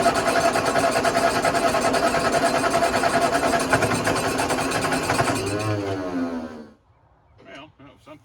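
A Ford 8N tractor engine is started with a little choke and runs loud and steady for about six seconds, then sputters, slows and dies, leaving a few faint knocks and clatters.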